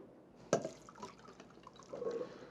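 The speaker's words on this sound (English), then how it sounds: "I have 2 cans of chickpeas. As you can see, I'm draining it." Liquid from cans of chickpeas drains away with a sudden splash, then soft drips and a gentle trickle of pouring, close and moderately quiet.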